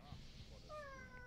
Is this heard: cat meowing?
yes